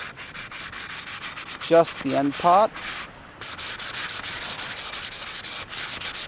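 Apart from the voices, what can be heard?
sanding hydrofoil back wing trailing edge by hand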